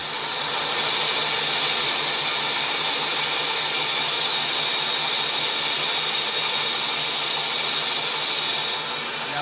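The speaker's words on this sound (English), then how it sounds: "We're going to top turn this now." Lathe top turning an engine part, likely a crankshaft for offset grinding, a steady loud broadband whir and hiss of machining running continuously without a break.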